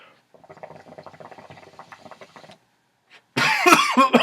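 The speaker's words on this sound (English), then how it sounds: "I'm sorry if I cough again." A speaker who is coming down with a cold lets out a loud burst of coughing near the end, after a few seconds of faint, scattered rustling and a short pause.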